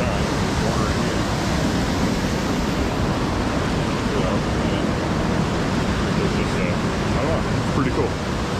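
Stream water rushes steadily at Steep Falls, Maine, a dense, broad roar of flowing water that stays loud and unbroken throughout, with a voice faintly mixed underneath.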